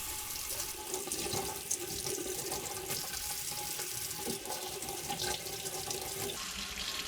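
Tap water runs steadily into a sink as wild mushrooms are rinsed, a continuous close splashing rush with small clinks and shifts.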